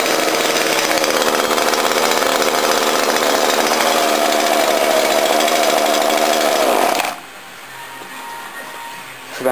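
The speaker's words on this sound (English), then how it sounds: "I don't think this motor's really done much work before." A 30cc two-stroke engine on a motorized bicycle runs close by on a cold morning with a loud, buzzy, rattling drone that climbs slightly in pitch, then cuts out abruptly to quiet near the end.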